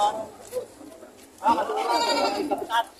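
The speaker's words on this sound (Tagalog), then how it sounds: "Lalaking kambing." A male goat bleats loudly and nearby, a wavering cry over other animal calls, with people talking in the background at a goat market in Padre Garcia, Batangas.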